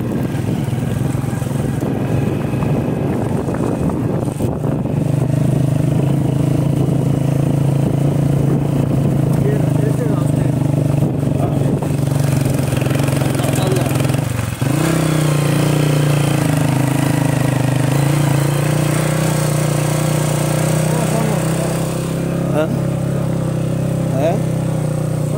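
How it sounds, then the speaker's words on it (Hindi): A motorcycle engine drones steadily and close the whole way through as the bike rides along a rough road, with a rattling jolt partway through and people talking over the noise. "आप बाइक पर जा रहे हैं"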